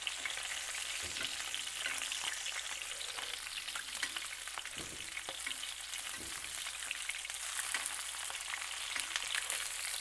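KuneKune pork chops fry in a pan while being basted, producing a steady, close sizzle and spatter throughout, with occasional soft clunks of the spoon against the pan.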